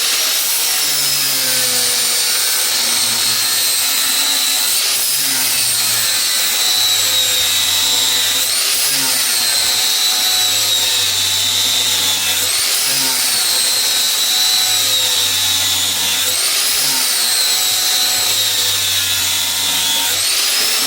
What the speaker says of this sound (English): 60 grit sanding disc, and then I'll just go down roughly a 30-degree angle like this.